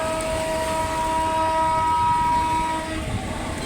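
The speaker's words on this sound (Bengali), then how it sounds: "ট্রেন যাচ্ছে" A train passes close by on a rainy day, a loud, steady rumble and rattle of rolling cars with sustained horn tones sounding over it throughout.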